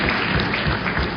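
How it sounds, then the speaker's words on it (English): Audience applause fills a hall at a business association event in Coimbatore, a steady dense wash of clapping hands at moderate loudness with no break, from a crowd honouring an outgoing chairman. "Please give him a big round of applause"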